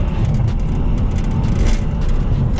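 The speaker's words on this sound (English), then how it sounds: "It takes a while to spool, but when it spools, there's no beat in that." A BMW N55 car engine fitted with a big turbo drones loud and close while driving, a dense, steady low rumble with rushing air noise on top.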